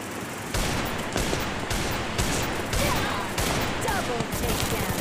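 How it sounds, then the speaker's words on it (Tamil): Desert Eagle gunfire in a Free Fire Clash Squad ranked match, a dense, loud barrage of rapid shots that rattles on continuously with only brief gaps. "நான் தான் டெசர்ட்டிகளை வச்சு அடிச்சேன்."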